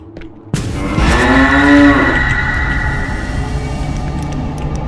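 A cow in a scary video game lets out a loud, drawn-out moo that rises and then trails off over a low rumbling background, with no talking.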